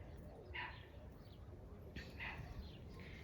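Dogs bark faintly in the distance, several short barks in two small clusters over quiet outdoor ambience.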